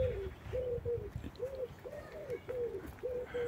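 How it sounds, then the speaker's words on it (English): A wood pigeon coos in a steady repeated rhythm of soft, hooting calls, clear and moderately near, heard outdoors with light background noise. "It's a wood pigeon."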